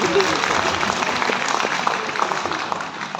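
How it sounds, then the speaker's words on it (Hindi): An audience at an education meetup claps steadily and densely to welcome a guest, a continuous wash of applause filling the room from start to finish. "तो स्वागत करूंगा जोरदार तालियों से श्री श्री श्री हर्षल अग्रवाल जी का।"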